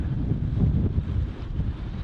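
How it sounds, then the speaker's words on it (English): Strong cold wind buffets the microphone in a continuous low rumbling roar, close and loud with no voices. "It's bloody windy and cold."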